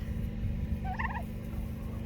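A short burst of turkey gobbling rises once over a steady low rumble, moderately distant and brief.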